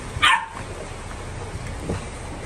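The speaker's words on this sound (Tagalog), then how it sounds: "Pasok tayo sa loob kasi nag-iingay si Neti eh. Tumatahol eh" A dog barks in a short burst, a sharp close yip followed by a fainter bark a moment later, against a steady background hum near a Honda City.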